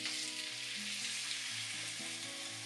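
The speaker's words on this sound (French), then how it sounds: "et cuire 2 minutes tout en remuant" Black-pepper beef with peppers, garlic and onion sautés in a pan with a dense, steady sizzle, close and even, under soft background music and no voice.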